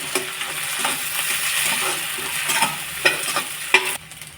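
Egg and vegetables fry in a pan, a steady sizzle with scraping stir strokes repeating every half second or so, close and fairly loud, with no talking.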